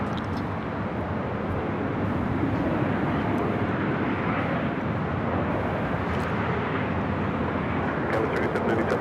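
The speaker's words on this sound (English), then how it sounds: "Cathay Pacific and the One World livery, flight 882 coming in from Hong Kong, a 777 at 300 yards" A Cathay Pacific Boeing 777 arriving at LAX gives a steady, broad jet roar that stays loud and continuous throughout, with no distinct change in pitch.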